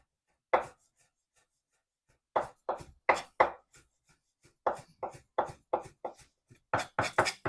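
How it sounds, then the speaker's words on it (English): A knife chops through coriander leaves on a board in quick, crisp strikes, first a few isolated cuts, then denser bursts of rhythmic taps close by with short pauses between, no talking. "These are just the leaves, but we'll run the knife through them just a few times."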